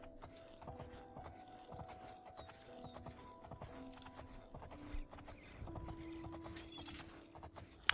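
Horse hooves clip-clop steadily in The Elder Scrolls IV: Oblivion as a black horse appears after fast travel, a rhythmic trot mixed with a whinny and game effects, with no one talking.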